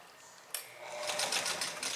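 Sewing machine topstitching the placket on a shirt cuff, a close, steady rapid stitching run that starts after a brief click and continues to the end with a slight stutter, with no talk over it.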